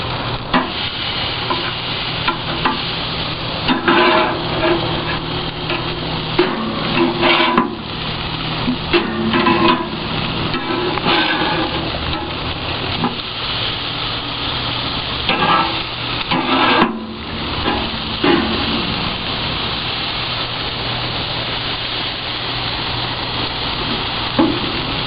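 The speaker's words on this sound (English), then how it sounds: "Time to turn them over." Five hamburgers frying on a grill pan are flipped with a single spatula, a steady loud sizzle running throughout with scraping and stirring bursts and one sharp clank near the middle.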